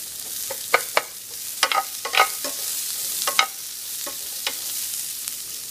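Onions softening in a pan for fajitas, a constant bright sizzle under a scattering of quick spatula scrapes and taps, close up and fairly loud, with no talking.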